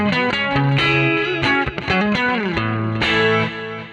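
An electric guitar plays a clean tone through a preset on a Fractal AM4 modeler, picking loud, ringing single notes and short chord phrases with sustained decays.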